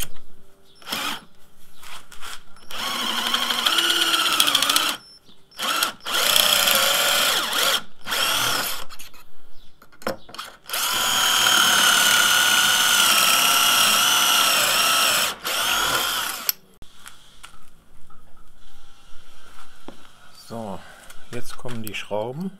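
A power drill drives screws into wood while a side table for a sun umbrella is built, with several loud whirring bursts of varying length separated by short pauses and handling noises.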